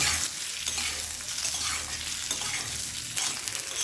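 Boiled potatoes fry in oil over a medium-high gas flame, giving a steady, close, dense sizzle that holds for the whole stretch with no voices.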